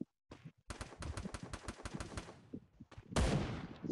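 Rapid bursts of sharp gunfire in Free Fire, a quick volley of shots in a tight rhythm followed by a few louder blasts, crisp and close.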